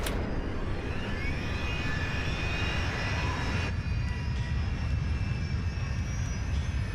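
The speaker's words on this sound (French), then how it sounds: "On a entendu le bruit que fait un moteur Rolls-Royce au démarrage. C'est un grondement sourd." A Rolls-Royce jet engine on a British Airways airliner restarts in flight, a steady low rumble with a broad roar and a thin high whine running throughout, loud and continuous with no voices.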